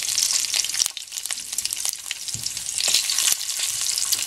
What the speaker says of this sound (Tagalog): Then dito, i-light fry lang natin itong hipon